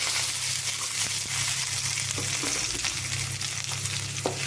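Onions and curry leaves fry in hot oil with popped mustard seeds, a loud, close, continuous sizzle with stirring clicks and spatter, no voices.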